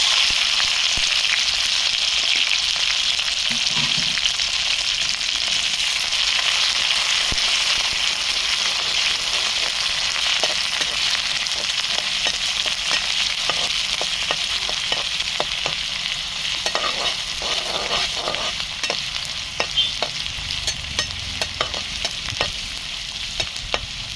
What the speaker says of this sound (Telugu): కోపు గింజలు అయితే చిటిపెట అంటున్నాయండి